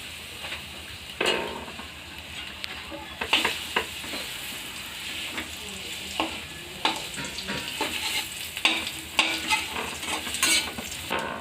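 Tamarind chutney cooking in hot oil tempered with five-spice, giving a steady sizzle and frying crackle with intermittent stirring scrapes and light utensil clinks, close and moderately loud with no talking.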